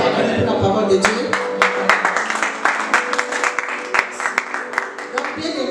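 A church congregation claps and applauds in praise of the word of God, a dense, steady patter of many hands filling the room, close and fairly loud, with sharper individual claps standing out near the end.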